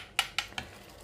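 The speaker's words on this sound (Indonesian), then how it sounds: "Diaduk-aduk sampai merata ya." A spoon scrapes and knocks against a bowl three times in quick succession while chicken seasoning with garlic powder and mushroom stock is stirred together, each stroke a short sharp clink.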